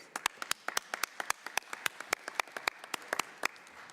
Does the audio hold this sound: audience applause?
yes